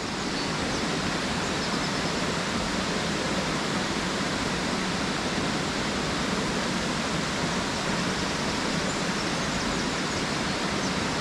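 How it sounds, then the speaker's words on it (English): Water pours down a waterfall near Stichill, turning white and splashing off the bottom rocks in a steady, unbroken rushing roar with no voices. "seeing the water going down, turning white and splashing off the bottom rocks"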